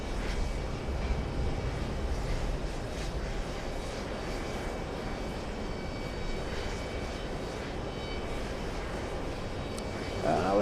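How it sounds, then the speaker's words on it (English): An airliner taxiing toward the runway at a Los Angeles airport, a steady broadband engine rumble that holds evenly and fills the whole stretch at moderate distance, with no talk over it. "That's Adriana heading to the runway."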